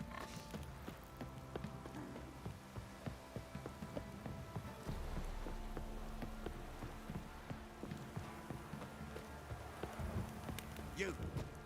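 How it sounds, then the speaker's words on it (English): Steady rain pouring in The Witcher 3: Wild Hunt, a continuous hiss of drops on surfaces running throughout, with game sounds and a voice speaking over it at times. "Stop raining, my arse'll rot off. It's ploughing, pouring again."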